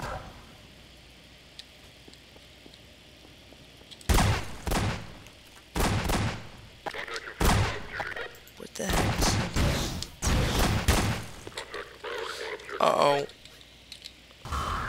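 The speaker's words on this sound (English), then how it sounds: "I'm gonna have to use my stringer launcher." Stinger launcher fire in Garry's Mod comes as several loud bursts and blasts in quick succession after a quiet start, with a player talking between the shots.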